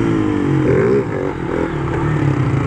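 A motorcycle engine revs loudly and close by as a first-time rider pulls a wheelie, its pitch rising and dipping in quick surges with a brief drop in power partway through.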